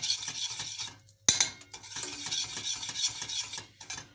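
Sugar being mixed into a mosaic cake mixture: quick rhythmic scraping and whisking strokes in a bowl, close and moderately loud, broken by a short pause and a sharp clink of a utensil before the stirring resumes.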